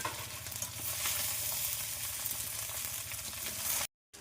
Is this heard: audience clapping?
no